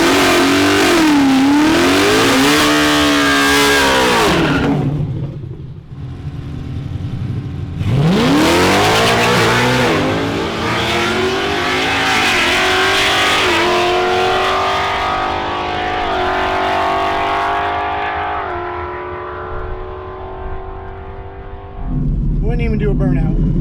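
A drag race car launches off idle down the strip, its loud engine revving hard and climbing through the gears, cutting briefly before roaring up again close and dominant.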